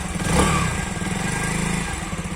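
A 2021 Mondial 125 Drift L motorcycle, a 125 cc bike on an uphill road, is revved briefly. Its engine swells to a peak, then settles into a steady, close, throbbing run.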